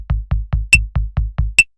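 A programmed drum on Soundtrap taps out an even 16th-note rhythm, eight quick punchy hits in a row with two brighter, sharper accents falling on the fourth and eighth beats.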